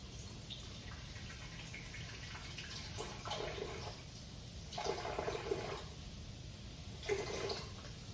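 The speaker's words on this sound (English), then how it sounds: "And now I'm going to put in the coconut water" Coconut water poured into a blender jar over ice cubes while making a breakfast smoothie, heard as soft splashing bursts of liquid that come and go over a steady low background hiss.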